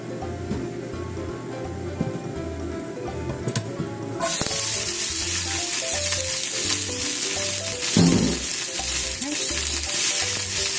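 Blanched sweet potato stems hit sesame oil and the pan erupts into a loud, bright continuous sizzle. Before that comes a quieter stretch with soft clinks and a low rhythmic hum, and the frying carries on close with occasional stirring.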